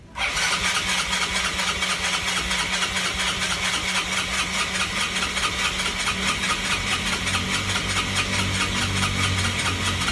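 A Yamaha Mio Sporty scooter engine cranks and catches, then runs at a steady, loud, continuous idle close by with a faint low hum underneath, no voices present.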